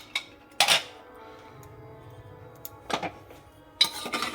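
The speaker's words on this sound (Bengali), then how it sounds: "এরপর আমি এটা ঢাকাটা খুলে চেক করছি যে এটা ঠিক হয়েছে কিনা।" Metal lid of a pressure cooker pot being opened after the steam is released, while cooking chicken stew with carrots and papaya: a few sharp metallic clanks and scrapes spaced apart, with a faint hiss between them, and no talk.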